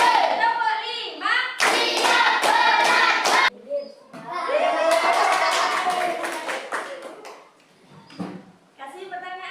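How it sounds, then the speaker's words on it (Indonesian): Children clap their hands in counted bursts during a classroom routine, sharp separate claps spaced by pauses, with a teacher's voice calling the counts in between. "Tepuk 1. Tepuk 2. Tepuk 3. Tepuk 4."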